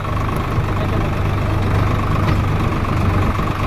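A diesel tractor engine idles loudly and steadily up close, a constant low rumble with faint knocking and no voices over it.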